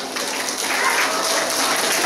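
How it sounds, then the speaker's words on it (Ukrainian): An audience at a school Teachers' Day gathering claps for the senior pupils, a dense, even patter of applause that swells slightly after the first moment and holds steady. "Давайте оплесками привітаємо"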